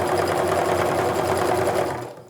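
A sewing machine runs steadily, stitching the side seam of a fabric makeup bag, a close, even mechanical whir that continues without pause before tapering off at the end.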